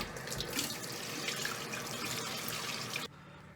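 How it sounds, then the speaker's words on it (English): Tap water runs steadily into a sink while a raw goose breast is rinsed under it, a continuous close splashing hiss that cuts off abruptly near the end. "So I'm gonna go ahead and rinse this off before I get them in the water."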